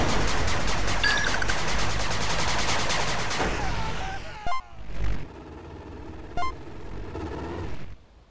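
Sustained machine gun fire in the 8 Bit Armies strategy game, with dense rapid bursts rattling for several seconds before breaking into scattered impacts and a few sharp isolated shots.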